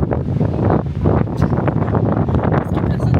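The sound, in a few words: strong wind behind a lighthouse by the sea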